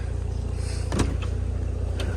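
An Audi S5 Sportback boot lid shuts with a single solid thud midway, close and clear over a steady low hum, followed by a faint click a second later.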